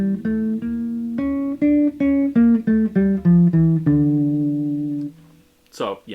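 A guitar plays a scale with a lowered sixth and raised seventh, about a dozen clear plucked notes in steady succession moving downward, close and alone, ending with a brief breath-like noise.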